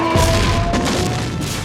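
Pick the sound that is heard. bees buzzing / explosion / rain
explosion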